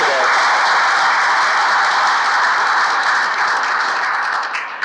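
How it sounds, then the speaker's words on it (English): A conference audience applauds a panel at a controls industry event, a dense, steady wash of clapping that holds for several seconds and thins slightly at the end. "Let's give them a round of applause for being up here and helping us out today."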